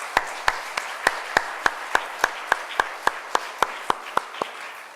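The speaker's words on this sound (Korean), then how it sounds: "우리 하나님께 영광의 박수 올려드립니다." A church congregation at a Friday worship service claps in steady unison, with evenly spaced loud claps keeping a brisk rhythm for several seconds.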